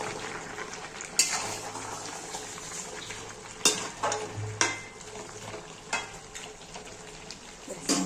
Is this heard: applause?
no